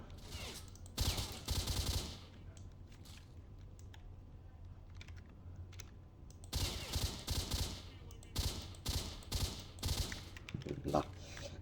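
Rapid bursts of gunfire crackle in two clusters separated by a quieter stretch, from the video game S.T.A.L.K.E.R. Shadow of Chernobyl, with faint background noise between volleys.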